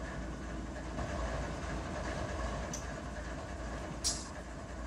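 A CSX-led freight train in the Run 8 simulator pulls forward through a yard, giving a steady low rumble with faint clicks and a short sharp hiss near the end. No one speaks.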